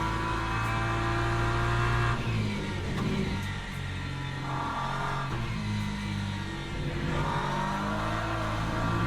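LMP3 prototype race cars in the iRacing sim rev hard and sustained, engine notes rising and falling through shifts across the whole stretch, loud and close with no talk.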